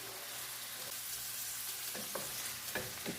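Ackee and salt mackerel filling is stirred in a hot pan, with a soft continuous sizzle and a few scraping spoon strokes toward the end, close and fairly quiet.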